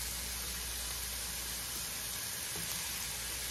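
Seasoned meat and vegetables sizzling in a pan, a faint steady frying hiss with no break.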